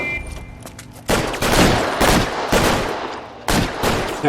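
Gunfire in the PC video game L.A. Noire, several loud close bursts of shots arriving in quick clusters over a few seconds, with no talk.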